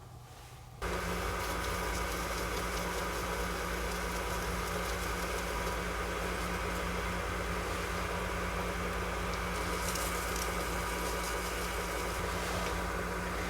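A wood lathe starts up and then runs at a constant whine, with a steady even drone and no talking.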